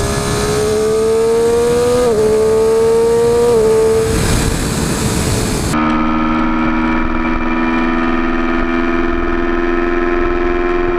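A 2013 Triumph Daytona 675R sport bike accelerating hard to pass another vehicle, its engine note climbing steadily in a loud, continuous, close-up wail with a sudden shift partway through, and no talking.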